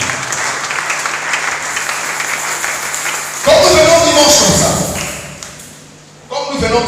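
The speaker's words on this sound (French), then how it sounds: "Est-ce qu'on peut acclamer pour la gloire de Jésus?" A church congregation breaks into loud applause during a Sunday worship service, a dense burst of clapping that swells and then tapers, with a sustained tone underneath.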